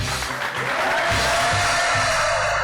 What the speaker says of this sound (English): we'll give Chad West the biggest rock star applause of your life